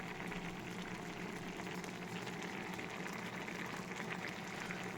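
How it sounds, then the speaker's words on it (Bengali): A no-onion, no-garlic paneer and capsicum gravy bubbles steadily in the pot, a continuous soft boiling hiss with no talking. "পনির ক্যাপসিকাম সব ফুটে গেছে"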